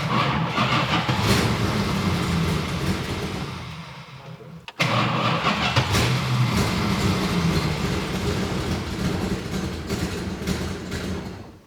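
A 1971 Plymouth Roadrunner V8 engine cranks and fires after sitting for 35 years, then runs loud and steady close by with a rough, rumbling exhaust, cutting out briefly before catching again.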